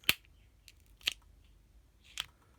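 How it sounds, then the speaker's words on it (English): Three sharp, separate snips of shears cutting through HDPE plastic, spaced about a second apart, close and crisp against a quiet background. "if I turn to my shears, if I cut it"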